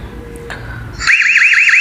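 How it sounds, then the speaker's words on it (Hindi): A loud electronic alarm from an Ezviz C3W outdoor security camera kicks in after a click, a rapidly warbling high-pitched siren that repeats steadily and close by. "ये देखिए अलार्म बजने लग गया।"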